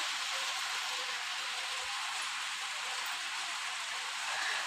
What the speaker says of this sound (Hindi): हल्का हल्का बरसात स्टार्ट हो गया।